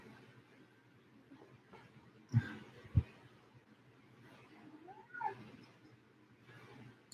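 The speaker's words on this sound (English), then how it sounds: "Just checking out my cat." A house cat gives a few faint, short meows, with soft thumps and movement in a quiet indoor room, distant and low in level.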